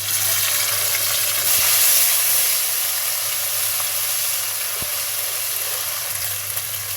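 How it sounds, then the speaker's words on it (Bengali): Cumin, ginger and garlic dropped into a pan of browned frying onions for a duck curry, giving a loud, steady close sizzle and hiss that eases slightly and continues without speech. "এখন আমি জিরা, আদা, রসুন দিয়ে দিচ্ছি।"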